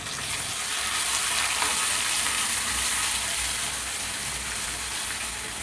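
Ginger garlic paste fries in hot oil in a pan with bay leaves, cinnamon and cloves, giving a steady close sizzle and hiss that holds throughout with no talking.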